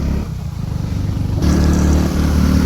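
A motorcycle rides along a road near the Narmada riverbank in the dense Satpura forest, its engine a steady close drone that grows slightly louder partway through.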